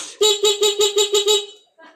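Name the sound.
horn on a Kawasaki Fury 125 motorcycle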